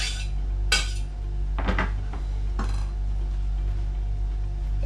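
A spoon scraping and clinking against a metal pot as lamb is stirred into a thick pie mix for a lamb and rosemary pie, a few sharp knocks and scrapes close by over a low steady hum, no talking.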